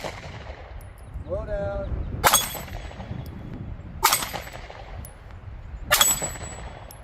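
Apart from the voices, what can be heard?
gunshots hitting a six-inch steel plate target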